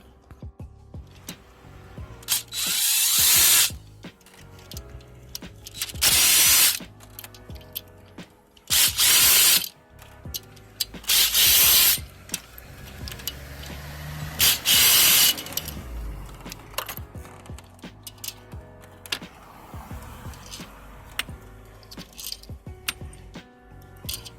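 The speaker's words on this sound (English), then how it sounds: "let me go ahead and get the rest of these bolts off" A power tool or ratchet spins off bolts in several loud, separate bursts of a few seconds each, close by, with quiet pauses and small clinks between them.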